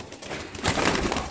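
Pigeons in a loft of Indian kabootar, a BMW breed, cooing and rustling close by in a dense, steady murmur that swells louder halfway through.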